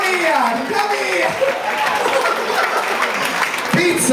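An audience claps in a loud, continuous burst while voices and laughter rise over the applause throughout.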